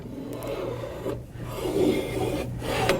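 The beater of a Carpigiani 191P-SP soft-serve machine slides and turns inside its freezing cylinder, giving a close, continuous rubbing scrape with brief breaks and a low hum beneath.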